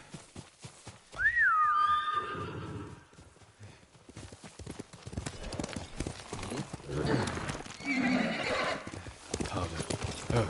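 In the video game Ghost of Tsushima, a horse whinnies loudly near the start, followed by steady clip-clopping hooves and rustling movement, with a second softer neigh later on.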